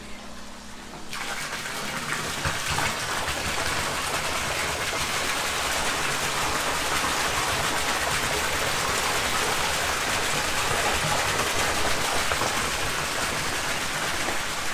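A pond pump, newly primed and feeding a pond fitted with a glass viewing window, drives a steady, loud rush of flowing water that starts after a brief quieter moment and carries on without a break.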